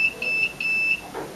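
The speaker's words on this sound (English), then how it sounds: "3 beeps means that's acknowledged our command and the system time has been successfully set." A Chuango home and office alarm system keypad gives three short, high electronic beeps in quick succession to acknowledge a time-setting command.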